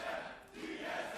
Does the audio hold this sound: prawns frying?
no